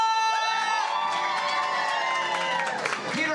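Audience cheering and shouting, with children's voices among them, fills the deck of a Disney fireworks cruise with steady loud whoops and some clapping, sustained throughout, with an announcer's voice mixed in.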